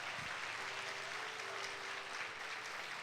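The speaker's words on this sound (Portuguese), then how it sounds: "Pode aplaudir o Senhor." Church congregation applauding during a Sunday service, a steady dense wash of clapping that holds evenly for the whole stretch, moderately distant, with no one speaking.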